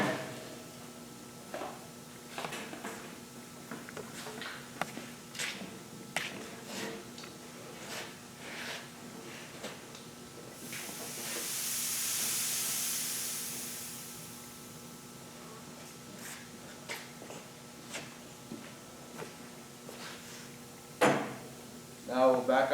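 Gas hose of an oxy-fuel welding torch set being bled, heard as a soft steady hiss of escaping gas lasting a couple of seconds midway, amid faint handling clicks and knocks of equipment nearby.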